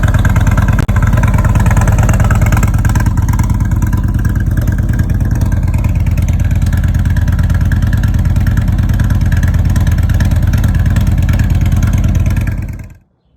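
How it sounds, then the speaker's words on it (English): A 2020 Indian Chief Dark Horse motorcycle with a Tab exhaust and zombie baffles idles with a loud, deep, lumpy rumble, steady and close, before cutting off abruptly at the end. "this is just the tab exhaust for my 2020 Indian Chief Dark Horse. That is the tab exhaust with the zombie baffles."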